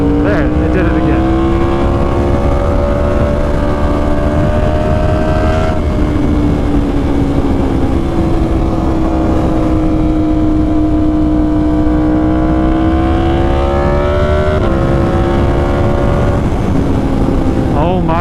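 A Yamaha R1 motorcycle fitted with an SC Project CR-T exhaust drones loudly and up close, its deep, rich engine note holding steady with small rises and dips in pitch for the whole stretch.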